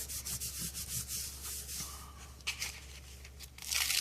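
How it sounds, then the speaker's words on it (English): A cover sheet is rubbed down to transfer a scallop design, a close, dry scratchy rubbing in repeated short strokes that grows louder near the end, with no voices. "Then I'm going to lay it back down over it, and I'm going to rub."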